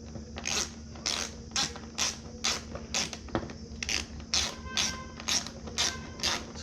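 A ratchet tool tightens the handlebar riser bolts on a Kawasaki Z900 motorcycle, producing a close, regular series of short ratcheting clicks about twice per second over a faint hum, without speech.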